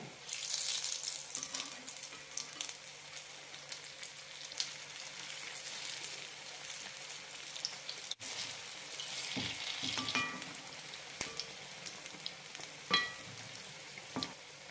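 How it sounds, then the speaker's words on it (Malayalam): Urad dal sweet bondas deep frying in hot oil over a low flame, giving a steady close crackling sizzle with a few sharper pops and stirring clinks, no voices. "ലോ ഫ്ലെയിമിലിട്ട് വേണം വറുത്തെടുക്കാൻ"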